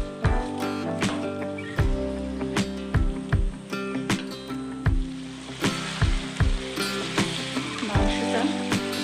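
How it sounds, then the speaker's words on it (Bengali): Broiler chicken meat is stirred and fried on high flame in a pan, giving a loud continuous sizzle broken by regular scraping knocks of the spoon, close up, with no talking. "মাংসটা এইভাবে একটু হাই ফ্লেমে নাড়াচাড়া করব।"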